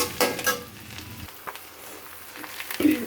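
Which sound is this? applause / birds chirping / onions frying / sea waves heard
onions frying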